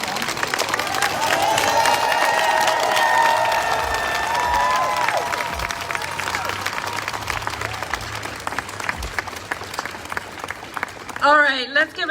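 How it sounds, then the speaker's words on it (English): A live gathering applauds and cheers young people, broad sustained clapping mixed with crowd voices for most of the stretch, thinning out toward the end while a voice and a brief tonal sound come through. "let's give another round of applause to our young people."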